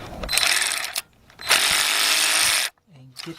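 Rapid ratcheting bursts from a 3/8-inch drive ratchet with a T30 bit loosening bolts on a Volkswagen timing cover during a rear timing chain job; two long, loud clicking runs separated by short pauses, ending in a brief quieter rattle.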